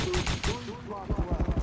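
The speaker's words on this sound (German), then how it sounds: "Schüsse kamen von links." Rapid burst of gunfire in the game Ring of Elysium, about eight sharp shots in quick rhythm, following a voice speaking.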